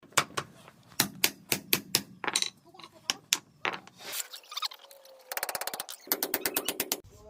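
Rapid metallic hammer blows punch out a universal joint with basic tools, striking in fast bursts and then tight rattling volleys, loud and close with no talking.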